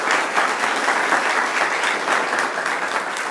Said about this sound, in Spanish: demos un aplauso a Priscila